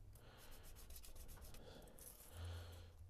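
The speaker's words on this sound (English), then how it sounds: "Now, styrene doesn't take a lot of sanding." Very fine sandpaper rubs over styrene plastic in short back-and-forth strokes, a soft, faint, close scratchy sanding with a slightly heavier pass near the end.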